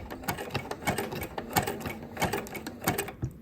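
Sewing machine stitching fabric for an Easter basket, a quick run of rhythmic mechanical needle clatter, close and steady, with no talk.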